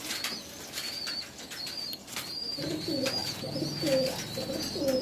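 A large flock of about 1,600 imported-breed Teddy pigeons coo in soft repeated bursts close by, while wings flutter and flap intermittently, with higher chirps above.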